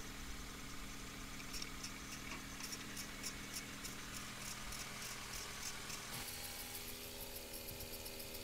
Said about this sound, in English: turn the engine back on for 10 to 15 minutes and let all the oil and WD-40 heat up and drip off